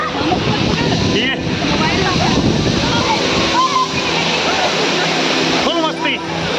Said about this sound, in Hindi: ये है ढोकाने वाटरफॉल और गर्मियों में आता है यहाँ पर आनंद